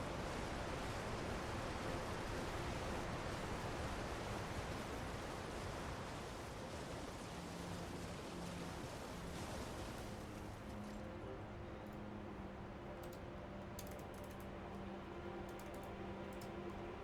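Waterfall in the video game Elden Ring Shadow of the Erdtree, a steady broadband rushing roar that fills the whole clip at an even level, with faint tonal game sounds appearing in the second half.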